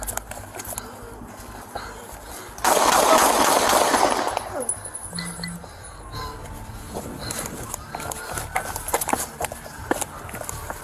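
Gunfire during a police shootout, a dense burst of rapid shots lasting a second or two, loud and close, followed by quieter outdoor noise and distant voices.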